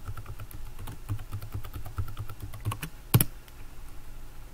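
A password typed on a computer keyboard: quick, close key clicks in an uneven run, ending in one heavier, louder keystroke, probably Enter, then a short quiet stretch.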